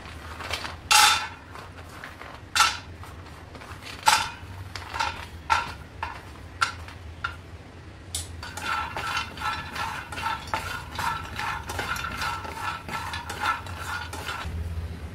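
Dry fruits, including cashews and pistachios, roasted and stirred in a pan for fenugreek ladoos, giving a series of sharp scraping clinks at first, then a steady dense rattle and scrape of the nuts being moved around, close and fairly loud.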